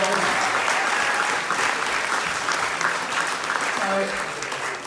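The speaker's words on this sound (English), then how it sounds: "Give a round of applause." Loud, sustained applause from the audience at a ballroom dance fundraiser fills the room for the whole stretch, dense and continuous, easing slightly toward the end.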